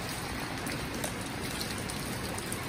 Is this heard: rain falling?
yes